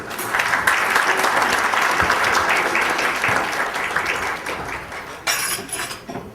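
Audience applauding at the close of a college Teacher of the Year awards ceremony, steady dense clapping filling the hall for several seconds, with a brighter burst of claps near the end.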